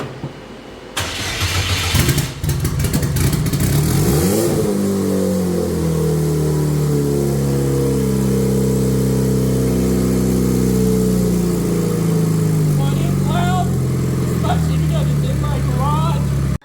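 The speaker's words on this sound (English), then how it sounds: "Give it a little bit of gas." An offroad vehicle's engine cranks and fires up, then revs under added throttle and settles into a steady, loud running drone with rising and falling pitch, close by; a few faint voices break in near the end.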